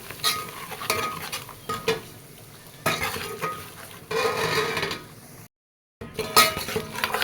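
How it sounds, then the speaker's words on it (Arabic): Chicken and rice kabsa ingredients stirred in a pot, giving intermittent scraping and clattering bursts with a faint sizzle, close by, then a short dead silence before more stirring. "نديهم بقى تقليبه"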